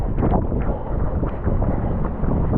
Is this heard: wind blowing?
yes